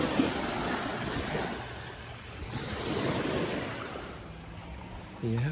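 Ocean waves wash steadily onto a shoreline where someone is mudlarking, a continuous rolling surf with wind buffeting the microphone and no voices.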